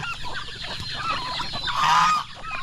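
Geese on a farm honk loudly and close by in a rapid cluster of harsh calls, peaking in one long, strong honk near the end.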